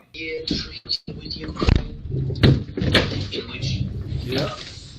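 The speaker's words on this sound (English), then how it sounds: "It sure sounds like that interior door is closing." An interior door in a house swings shut with a short knock and scrape, followed by soft rustling and handling noises nearby, with voices talking faintly in the background.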